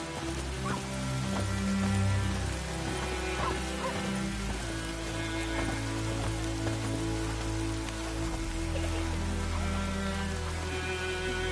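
Steady rain patters in The Witcher 3: Wild Hunt, a continuous wash of droplets over a low, droning game soundscape, with no speech.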